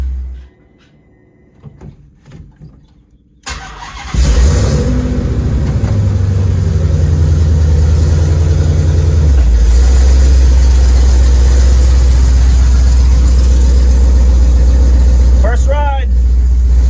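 A 1969 Dodge Charger with a swapped-in Hellcat engine cranks and catches into a loud, steady, deep idle that runs on close by after a brief quiet stretch with faint voices.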